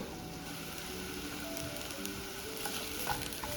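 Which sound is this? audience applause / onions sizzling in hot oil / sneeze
onions sizzling in hot oil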